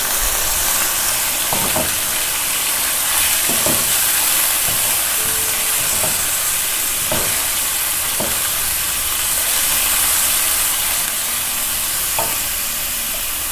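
Half a kilo of minced meat fries with onions in a pan, giving a continuous loud hissing sizzle broken by occasional spatula scrapes and stirs, close up with no talking.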